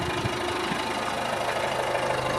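A car engine idles steadily as the clutch is half released to creep the vehicle forward, a close, even low rumble with faint knocking vibration and no voices.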